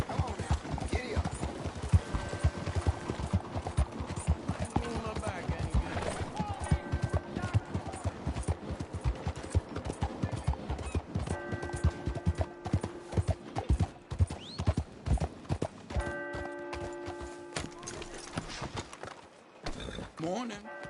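Horse hooves clip-clopping at a steady trot in Red Dead Redemption 2, with occasional whinnies and game music, continuing through most of the stretch alongside brief spoken exchanges.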